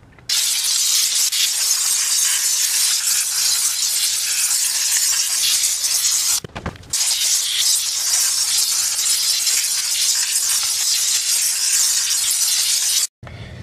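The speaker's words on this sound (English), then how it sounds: "And you can see how much more residual dirt and grease you remove with the steam." A steam cleaner blasts a continuous loud hiss across a custom Suzuki GS1100E motorcycle wheel, stripping residual dirt and grease during paint preparation, with one brief pause midway and a short stop near the end.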